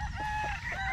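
Late-born banded stags, young fighting-cock chickens, heard close up in a brief, full-bodied burst of clucking and crowing-like calls.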